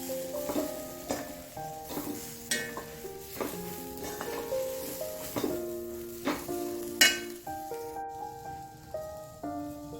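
Sambar powder being sautéed in a pan, with repeated scraping stirs and a soft sizzle coming in uneven bursts, heard under a melodic background tune.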